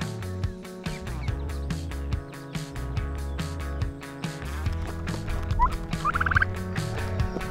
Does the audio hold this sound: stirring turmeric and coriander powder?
no